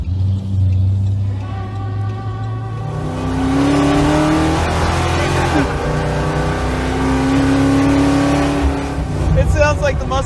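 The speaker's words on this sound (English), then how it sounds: "It sounds like the muscle truck." A muscle truck's engine runs loud and close, revving up in long rising surges over a rough, rumbling idle for about ten seconds.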